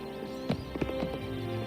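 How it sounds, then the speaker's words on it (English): A horse in the video game Oblivion Remastered snorts and stamps a few times, with soft hoof thuds and a brief whinny-like burst against a steady game-music background. "Horsey, you must jump"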